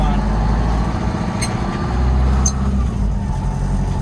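A truck with a Detroit 8V71 two-stroke diesel and 13-speed transmission drones steadily while driving, a loud, low, throbbing engine note with a couple of faint squeaks overhead.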